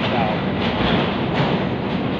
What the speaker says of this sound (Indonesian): Ini kereta-keretanya, guys. Kereta cepatnya, guys. Ada Tren Italia, ada Italo.